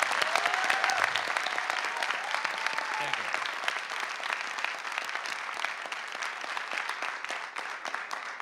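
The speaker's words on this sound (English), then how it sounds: "While I have you applauding" A debate audience at Massasoit gives steady, sustained applause for three nervous students, a dense wash of hand clapping that holds throughout and tapers slightly, with a voice briefly audible early on.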